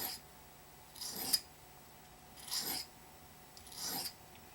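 A knife blade is drawn across the coarse side of a sharpening stone in three distinct, evenly spaced rasping strokes, each close and gritty, with quiet pauses between them.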